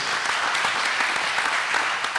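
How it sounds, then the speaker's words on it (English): A crowd at a district budget town hall meeting claps steadily, a dense patter of many hands held at an even level throughout, with no talking. "You clap for your mama, huh?"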